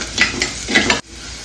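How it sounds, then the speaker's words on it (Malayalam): Cooked lentils, turkey berry and onion are stir-fried in a pan for a toran, with a close, sizzling scrape of a spoon in several quick strokes that stops abruptly, leaving a quieter hiss. "പരിപ്പ്, ചുണ്ടയ്ക്ക, ഉള്ളി എല്ലാം കൂടെ വേവിച്ച് വെച്ചിട്ടുണ്ട്. എല്ലാം കൂടെ ഇതിൽ തട്ടി കൊടുക്കുക."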